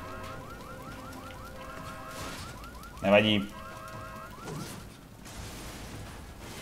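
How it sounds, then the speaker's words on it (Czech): A car alarm sounds in the video game Darksiders, a steady warbling electronic tone that repeats through the scene. A louder mechanical burst interrupts it briefly, and a voice says a single word. "nejspíš tady auto má zapnutý alarm"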